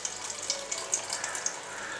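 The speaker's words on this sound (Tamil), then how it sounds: "எவ்வளோ தண்ணி வருது." Water trickles and drips as grated cauliflower is squeezed in a kitchen towel, a faint close patter of small droplets over about two seconds.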